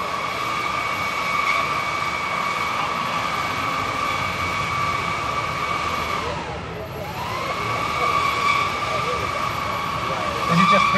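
The electric motors of a prototype Gravity Industries jet pack run to pre-warm the batteries, a loud, steady whine with strong tones that dips and drops in pitch briefly midway before rising back.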